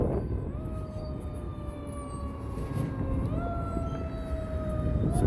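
A fire truck siren wailing with slow, sustained rising and falling tones over steady road and traffic rumble on a morning street, moderately distant and drawing closer.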